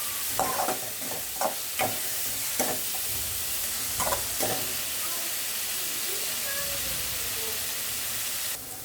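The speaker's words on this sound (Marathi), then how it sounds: "आपण वाटण तयार करून घेतलेलं तेल टाकून द्यायचं ते छान फिरवून घ्यायचं थोडा शिजू द्यायचं" A ground spice paste cooks in hot oil for a Vidarbha-style tur usal, hissing loudly and steadily, with a run of scraping stirs early on before the frying carries on alone.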